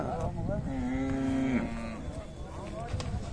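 A cow lets out a long, low moo close by at the Siddaganga cattle fair, with other cattle and faint voices murmuring in the background.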